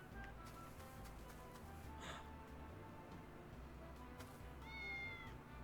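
A cat's meow in the Triangle Strategy video game, a short high call near the end, faint under a steady music and game ambience bed.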